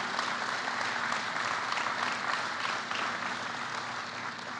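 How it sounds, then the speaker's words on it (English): Sustained applause from an audience of Amtrak workers at a presidential infrastructure speech, a broad wash of many hands clapping at moderate distance, steady and unbroken, tapering slightly at the end. "That's worth a round of applause"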